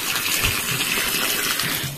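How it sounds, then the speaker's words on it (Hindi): Water gushes hard from a tap at the Udayagiri Buddhist Monastery in Jajpur, a loud, close, unbroken rushing splash that fills the scene with no voices over it. "पानी गच गच गच गच बाहर"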